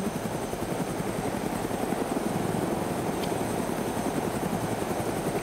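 A helicopter in the survival video game DayZ drones steadily throughout, a continuous rotor and engine roar at an even, moderate level with no speech over it.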